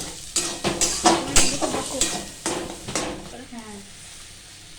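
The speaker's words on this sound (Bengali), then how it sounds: "এবার এটাকে ভালো করে নাড়লাম, যতক্ষণ না মিক্স হচ্ছে ভালো করে নাড়তে থাকবো।" A mixture for a Bengali mustard paste dish stirred in a pan, a run of quick scraping, clattering strokes with faint sizzle underneath, fading out near the end; someone briefly speaks.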